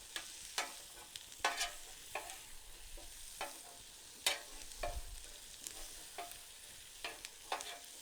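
Asparagus and steak on a seasoned griddle, a quiet steady sizzle broken by repeated sharp scrapes and taps of a spatula turning the food, no one talking.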